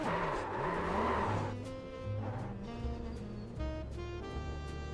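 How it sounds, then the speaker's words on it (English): A car engine revs and shifts through gears, rising and falling in pitch, with a rough, fairly loud mechanical drone throughout. "Car sounds like a bloody train."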